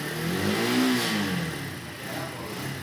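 A motorcycle engine held on the throttle, a close, steady mid-pitched rev that rises and falls slightly over a few seconds, with no talk.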